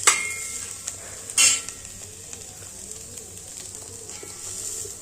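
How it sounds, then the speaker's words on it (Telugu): Cauliflower frying in a pan for fried rice crackles in a soft continuous sizzle, broken by a sharp clink at the start and a brief louder rattle of a utensil against the pan, with no voice. "ఇదిగోండి క్యాలిఫ్లవర్ మంచిగా ఇలా వేగాలి"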